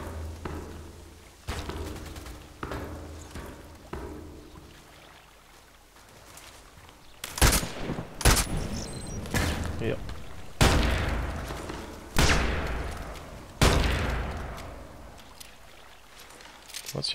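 Gunfire from an enemy player in Contract Wars on a lighthouse map, several sharp loud shots spaced a second or two apart, with someone talking between them.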